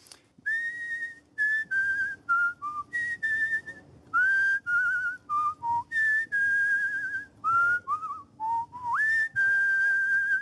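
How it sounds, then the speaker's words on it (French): A man whistles a melody, clear and close, in phrases of sustained and gliding notes separated by short breaths. "votre talent, c'est de très bien siffler"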